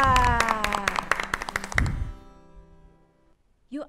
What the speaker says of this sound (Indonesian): Yuk kita tepuk tangan untuk Tuhan Yesus yang hebat dan luar biasa